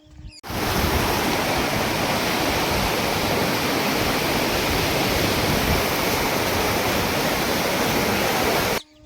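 A swollen river rushing past near railway quarters at night, a dense, loud, steady roar of flowing water that fills the scene from start to end, with no voices.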